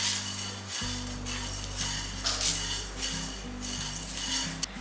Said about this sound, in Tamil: போட்டுட்டு இதை ட்ரை ரோஸ்ட் செஞ்சுருவோம்